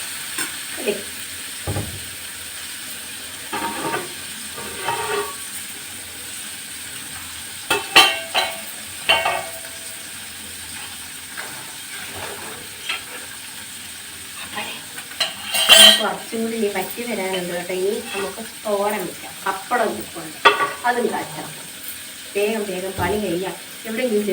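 Food frying and sizzling in a pan in a village home kitchen, with a soft hiss under scattered clinks and scrapes of utensils while people talk over it throughout.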